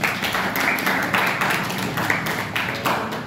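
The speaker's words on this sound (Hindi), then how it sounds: "आप सभी बच्चों का जोरदार तालियों से स्वागत करना चाहता हूं।" An audience at a school theatre department claps together in a steady rhythmic beat, welcoming children with loud, evenly spaced rounds of applause.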